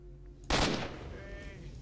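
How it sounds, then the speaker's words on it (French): A single loud gunshot in STALKER: Shadow of Chernobyl, sharp and close, followed by a lingering tail and faint game ambience. "Headshot."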